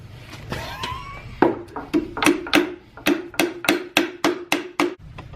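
Sharp hammer blows strike parts of a BMW E46 rear end, about a dozen loud metallic hits in a quick, fairly regular rhythm after a brief scrape, close and dominant.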